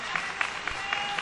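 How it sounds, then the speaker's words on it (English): A church congregation claps and cheers for its pastor and his wife during a Sunday service, a short burst of crowd applause with a few sharper claps and a voice heard in the mix. "Would you give God some applause for sending us such a high quality pastor and his wife?"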